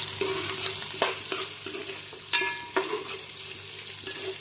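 Onions fry in hot oil in a pot for a chicken curry, a quiet sizzle under repeated sharp scrapes and knocks of a spoon stirring at an uneven pace.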